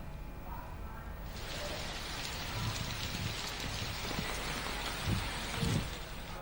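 Steady rain falls on surfaces in Jharkhand, a dense continuous hiss that starts abruptly after a quiet second and carries on evenly with a few louder splashes near the end, no voices.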